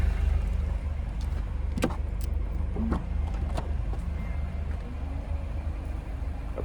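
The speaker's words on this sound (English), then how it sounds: "Power lift gate there." The power liftgate of a 2026 Chevy Traverse LT AWD opens with a continuous electric motor whir, marked by a few sharp clicks and latch knocks along the way, heard close and without talk.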